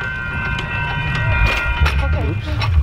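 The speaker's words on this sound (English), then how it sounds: "Going across another railroad crossing." A rail bike clatters over a railroad crossing on a ride toward the redwoods at Fort Bragg, California, moving at about 21 miles per hour. The rolling, clicking rumble continues steadily and close by, with voices talking over it.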